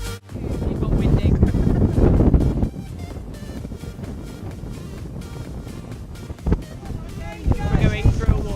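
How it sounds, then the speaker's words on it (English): Wind buffets a boat at Milford Sound, New Zealand, with heavy low rumbling gusts loud at first, then easing into a steadier whoosh before surging again near the end. "It got windy."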